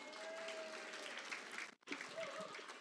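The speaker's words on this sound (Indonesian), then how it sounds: "Tepuk tangan dong" An audience applauds at a seminar, a steady patter of clapping at moderate distance, briefly cutting out near the end before resuming.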